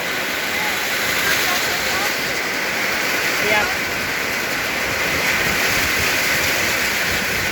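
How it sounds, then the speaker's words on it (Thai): Heavy rain pours steadily outdoors in a rural Thai setting, a constant rushing hiss that fills the whole clip, close and loud, with a brief murmur of speech partway through. "ฝนตกแล้ว"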